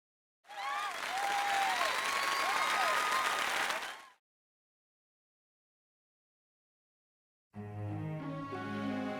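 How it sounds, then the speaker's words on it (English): Steady crowd applause in Fire Emblem: Three Houses for about four seconds, then silence, then a burst of tonal music with a bright, game-like character. "give a big round of applause for our talented participants"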